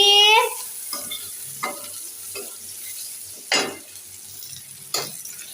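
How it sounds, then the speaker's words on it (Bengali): Onion frying in oil, a soft sizzle broken by several separate spoon scrapes and clinks against the pan, with a brief high squeal at the start. "পেঁয়াজটা ভেজে নিচ্ছি"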